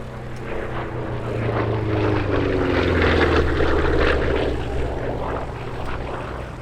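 A P-47D Thunderbolt fighter flies at the RAF Cosford airshow 2025, its propeller engine a loud, rough drone that swells to a peak as it passes and then slowly fades.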